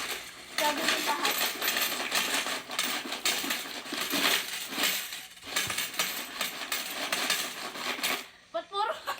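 One-peso coins spill and clatter from a cut-open piggy bank in a dense, continuous metallic jingle that swells and thins over several seconds, with faint voices nearby.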